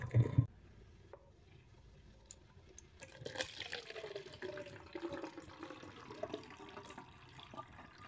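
Water pours through a funnel into a container, a steady close splashing trickle that starts after a brief knock and continues quietly to the end.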